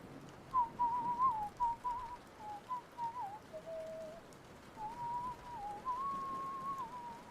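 Someone whistles a tune, a wavering melodic line of sustained and sliding notes, moderately close and alone over faint room noise.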